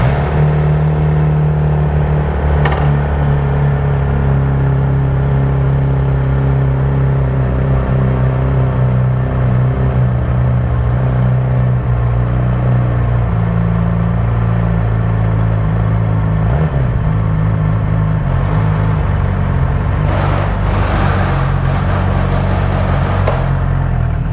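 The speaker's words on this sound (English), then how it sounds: "I'm gonna test the bike right now." A Yamaha R6 motorcycle engine running steadily after a repair for an engine problem, a loud continuous low rumble and whir with a brief rev swell near the end, close by and alone.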